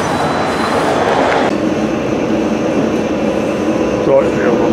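A Sheffield tram rumbles steadily along the tracks from on board, a continuous low mechanical drone with faint rail clatter, loud and close throughout.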